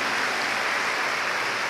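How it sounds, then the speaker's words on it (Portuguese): Church congregation at an evangelical women's congress applauding, a dense, even wash of clapping filling the brief moment without pause. "Quem pode aplaudir o Senhor aí por essa maravilha?"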